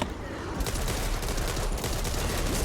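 Sustained rapid gunfire from Back 4 Blood, a dense continuous barrage of shots at steady loudness, close and busy throughout.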